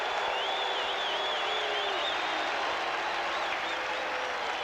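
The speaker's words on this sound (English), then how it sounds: "Now listen to the crowd." A stadium crowd at a 1987 Raiders–Packers NFL football game applauds and cheers in a dense, sustained roar after a reception, with whistles rising above the din throughout.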